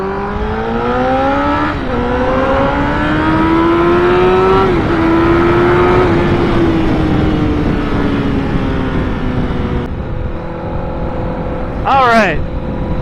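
A Honda CBR1000RR Fireblade sportbike accelerates hard through the gears, its engine note rising in pitch with a shift dip, loud and close, ending with a sharp high rev sweep.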